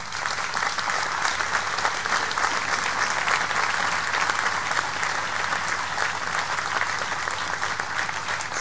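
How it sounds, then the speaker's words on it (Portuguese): A concert audience gives sustained applause to a town's community wind band in Antas, Esposende. The dense, even wash of many hands clapping carries on steadily without a break, heard from some distance with no speech. "Uma grande salva de palmas para vocês todos."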